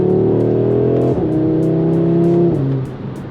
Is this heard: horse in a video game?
no